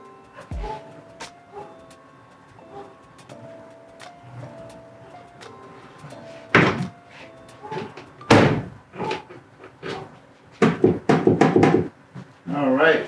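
An aftermarket-modified BMW E38 sedan's trunk lid is handled with several knocks and thumps, followed by sharp slams and a rapid cluster of heavy bangs near the end, with some quiet fumbling in between.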